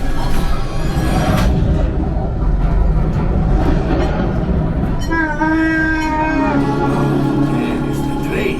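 Train sequence on the Star Wars simulator ride at Hollywood Studios: a dense, loud rumbling roar of motion and effects, with a rising horn-like tonal blast partway through.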